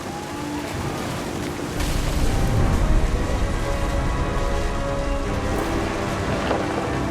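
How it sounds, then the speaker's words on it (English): Heavy rain pours in a stormy beach scene in What Remains of Edith Finch, with a deep rumble of thunder swelling in about two seconds in and rolling on beneath the steady downpour. "The thunder sounded much too close and full of angry power."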